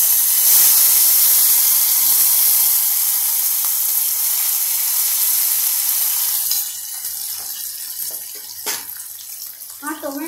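Tomato dropped into hot oil in a pan for South Indian rasam, a loud hiss of sizzling that stays strong at first, then eases to a quieter crackle with scattered pops toward the end.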